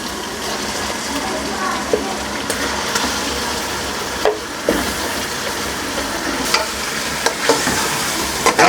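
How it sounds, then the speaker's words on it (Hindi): Mutton sizzles loudly in a pot with ginger-garlic paste, a constant close frying hiss broken by scraping stirs and occasional knocks of the spoon. "अदरक लहसुन को हल्का सा फ्राई करके हमने इसमें डाल देना है मटन"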